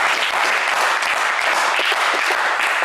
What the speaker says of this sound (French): c'est pas mal, on applaudit Garba, s'il vous plaît.